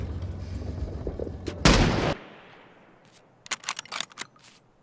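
Gunfire from Escape from Tarkov: a loud, close burst of automatic shots lasting about half a second, followed by a scatter of sharper, separated shots and clicks.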